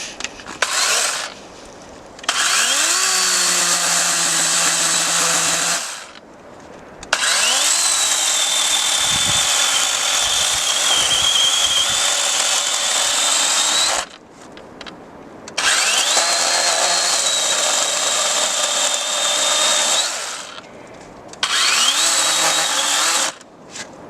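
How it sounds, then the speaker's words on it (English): A DeWalt 20-volt 12-inch DCCS620 cordless chainsaw cuts wood in several long bursts of steady motor whine, broken by short quiet gaps between cuts, loud and close with no talking. "This is his work chainsaw"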